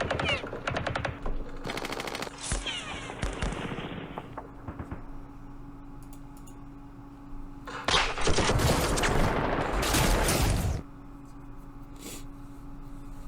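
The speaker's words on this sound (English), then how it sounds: "Anti-tank guns. There it is. 6-pounders." Bursts of gunfire from 6-pounder anti-tank guns in the Campaign Series Middle East war game, two loud clusters of rapid shots with a steady low hum between them, no talking.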